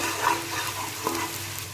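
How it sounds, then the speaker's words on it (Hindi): Ginger garlic paste fries in a pan with a steady, close sizzle and light stirring scrapes over it, even and continuous, with no voices. "1 से 2 मिनट इसे अच्छे तरीके से फ्राई करूंगी ताकि अदरक लहसुन का कच्चापन ख़त्म हो जाए।"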